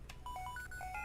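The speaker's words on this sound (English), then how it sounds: "The phone's ringing." A phone rings inside a Pokemon video game, a short melodic electronic jingle of bright bleeping tones stepping up and down over low background hum, heard alone with no talk.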